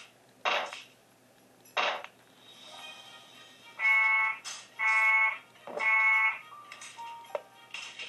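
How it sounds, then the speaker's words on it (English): Electronic alarm and warning tones from a Five Nights at Wario's custom night horror game on hard mode: short harsh bursts followed by repeated ringing beeping tones, moderately loud, with no talk. "I'm hitting the alarm for Waluigi and the radio for Luigi"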